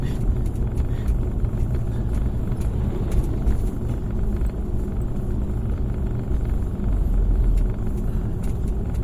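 A vehicle drives down a mountain road behind a large truck, with a steady loud low engine and road rumble running throughout and no talk heard.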